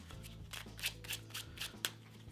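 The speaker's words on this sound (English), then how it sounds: "I'll start off by giving the deck a quick shuffle." A deck of playing cards is shuffled in a quick run of crisp riffling flicks and soft snaps, close and fairly quiet, with no talking.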